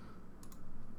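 A pair of quick, soft mouse clicks while working in Revit software on a parametric window model, faint and close against a low background hum.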